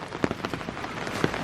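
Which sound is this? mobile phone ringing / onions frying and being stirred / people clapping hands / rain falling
rain falling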